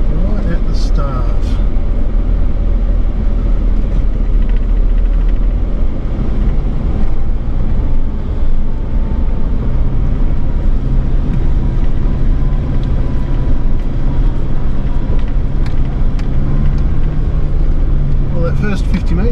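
A four-wheel drive vehicle moves along the steep Fryers Creek bush track with a loud, steady engine rumble and rough wind buffeting, while people talk over it.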